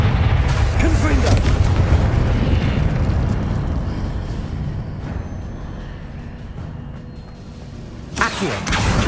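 In Hogwarts Legacy, a Confringo fire spell goes off as a deep rumbling blast that slowly fades, with a sharp second burst near the end, under continuous game background sound.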